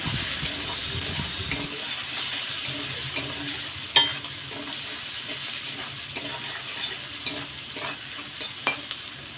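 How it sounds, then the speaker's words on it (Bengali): Chopped onions fry in hot oil with a pinch of salt until deep red and crisp, a steady close sizzle with occasional clinks and scrapes of stirring. "পেঁয়াজটাকে একদম লাল লাল কড়া করে ভেজে নেবো।"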